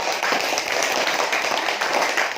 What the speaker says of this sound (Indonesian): kasih tepuk tangan kepada